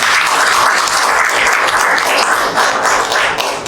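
Sustained audience applause at an official ceremony for an acting executive chairman of the FCT Internal Revenue Service, dense and steady clapping filling the whole stretch without a pause.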